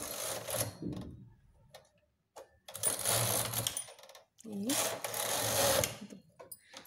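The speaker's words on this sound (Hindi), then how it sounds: "कैरिस को हम दो बार चलाएंगे" A knitting machine carriage is run twice across the needles while a designer sweater border is made, giving bursts of clattering, rattling mechanical noise separated by short pauses, close and fairly loud.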